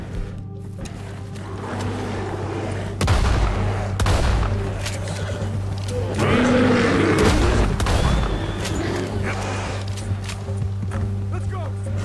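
Several sharp, booming gunshots ring out in Red Dead Redemption II, spaced a few seconds apart over a steady bed of game sound and voices.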